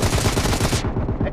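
Rapid automatic gunfire in the mobile shooter BGMI during a team deathmatch, a fast close burst of rattling shots that cuts off abruptly near the end.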